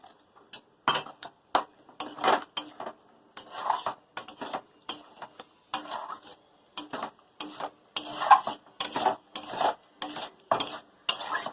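Boiled pumpkin, potato and banana stem being stirred and mashed in a pot, with repeated scraping and clattering strokes in a steady, uneven rhythm throughout, fairly close and alone.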